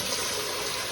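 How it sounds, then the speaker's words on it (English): Water pours steadily into a turkey brine, a dense, continuous rushing splash with no pauses, heard alone. "I'm going to have to add a little bit more water in this to the brine"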